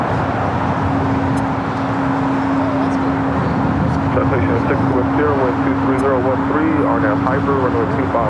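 Airliner taking off from runway 25 left at LAX, a loud continuous engine roar with a steady tone throughout, joined partway by a voice talking over the noise.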